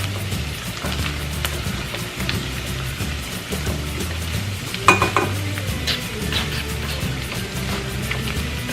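Garlic frying in a pan for beef kaldereta, a steady close sizzle with occasional stirring and utensil clinks against the pan, no voices over it.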